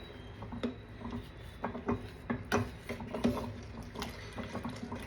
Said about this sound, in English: Make sure you're stirring it continuously so that it doesn't stick to the bottom.